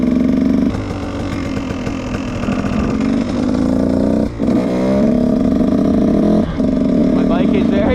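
Cold dirt bike engine running close and loud, a steady rough idle with a brief dip and a couple of quick revs midway, a continuous mechanical drone throughout.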